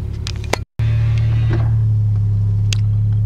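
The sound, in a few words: Toyota JZX90 Mark II Tourer V with pod filter driving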